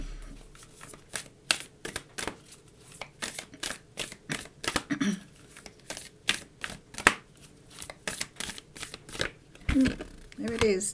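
Oracle cards are shuffled by hand in a long run of quick, crisp riffles and slaps, close and fairly loud, with a few soft murmurs between.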